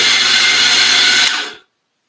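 An espresso coffee grinder whirs loudly and close at a steady pitch while grinding beans, then winds down and cuts off into silence.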